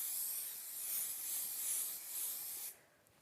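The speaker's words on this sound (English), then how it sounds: "Give it a good shake and then spray it." Aerosol can of spray adhesive for sewing and fabric work hissing in a steady, close, fairly loud burst for under three seconds before cutting off abruptly into quiet.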